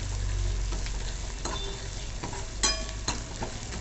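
Freshly grated coconut is sautéed in a pan with a little asafoetida, making a soft continuous sizzle with occasional spatula scrapes and light metallic clinks.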